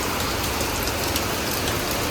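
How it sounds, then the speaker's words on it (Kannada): Heavy rain pours down in Goa, a dense, steady roar of drops on surfaces that holds at the same loud level throughout, with no voices. "ಗೋವಲ್ಲಿ ಮಳೆ ನೋಡ್ರಿ ಹೆಂಗೈತೆ."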